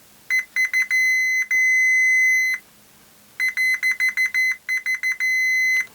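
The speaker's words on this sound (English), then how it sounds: "I'm just going to beep that out because the print is rather fragile around there." A continuity tester checks fragile circuit board traces in a Monitor Audio MASS W200 subwoofer, giving loud, bright electronic beeps in rapid stuttering bursts and longer held tones, alone against a quiet background.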